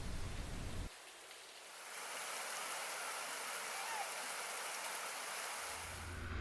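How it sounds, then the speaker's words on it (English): Rain falling in the Faroe Islands makes a dense, steady hiss that swells and holds, with a gusty low rumble of strong wind at the start and end. "On this day, it rained a lot,"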